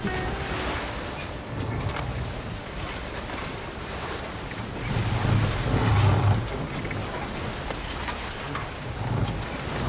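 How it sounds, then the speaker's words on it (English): Loose items clatter now and then inside the cramped galley of a sailboat rolling at sea, mixed into steady wind and surf noise with swells of louder sloshing; no one speaks. "Things rattle here in the so-called kitchen."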